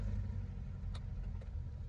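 Chevrolet Cruze car pulling away in first gear, a steady close engine rumble with low road noise running throughout and no talk.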